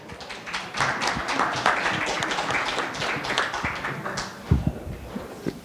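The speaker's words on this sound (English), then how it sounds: "So welcome this panel with a warm applause" A seated audience applauds to welcome a discussion panel onstage, a dense, steady wash of clapping from many hands lasting several seconds before tapering slightly.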